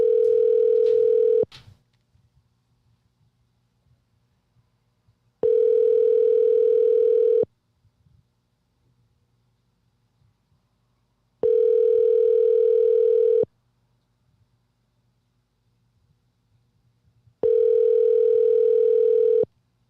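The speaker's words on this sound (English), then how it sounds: "I'm literally using a phone and I'm trying to call you back here" A telephone rings out on an outgoing call, sounding four long, even ring tones of about two seconds each, separated by regular silent gaps, heard close and clearly with no talking.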